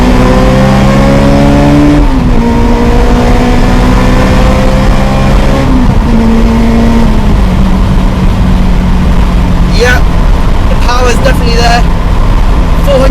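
Supercharged Spoon Sports Honda S2000 making about 400 bhp, engine droning loudly in cabin then stepping through downshifts with rising revs and tyre or whine chirps, as someone speaks over it.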